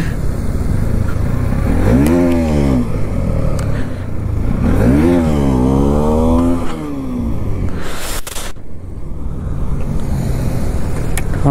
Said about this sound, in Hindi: एक व्हीली ट्राई करते हैं।